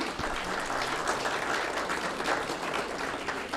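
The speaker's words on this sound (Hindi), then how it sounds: "बड़ जोरदार तालियां इनके लिए होने चाहिए।" Sustained applause from an audience at an awards ceremony, steady and full throughout with no break, a dense wash of many hands clapping.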